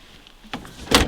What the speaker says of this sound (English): Open one door